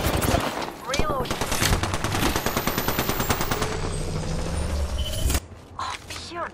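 Rapid automatic weapon fire in Apex Legends rattles in a steady close stream of shots, mixed with game effects and a voice talking over it, ending abruptly.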